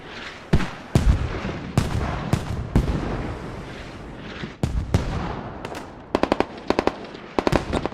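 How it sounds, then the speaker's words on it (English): Mortar shells pound a rooftop in a large 26-versus-26 battle on the Sumari map in a shooter game, with heavy booming impacts, near and loud, and a rapid crackle of gunfire near the end. "Just watching the mortar just constantly land on the roof."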